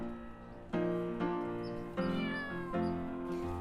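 A cat meows repeatedly in a domestic scene, with several loud, drawn-out, wavering calls coming one after another close by, with musical accompaniment or background tones running underneath.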